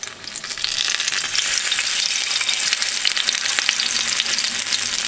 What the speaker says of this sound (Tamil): ஷாலோ ஃப்ரை பண்ண போகிறேன்.